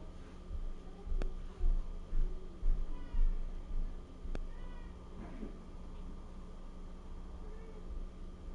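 A pet cat meows a few times at moderate distance in a quiet indoor room, with light background noise and brief sharp clicks between the calls.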